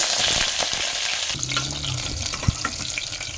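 Mustard seeds, half an onion and curry leaves sizzle and crackle loudly in hot oil in a home kitchen, with a dense steady frying hiss, scattered pops and a few stirring scrapes.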